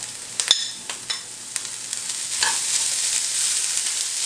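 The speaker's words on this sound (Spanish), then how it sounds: "revolvemos y agregamos el jamón" Ham frying with vegetables, peppers among them, in a pan, seasoned with salt and pepper, a continuous close sizzle with a few sharp spoon clicks and scraping stirs early on, no voices.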